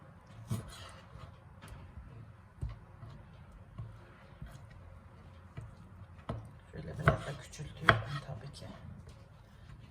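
A knife taps steadily against a cutting board as food is chopped, soft and irregular, with a couple of louder knocks near the end.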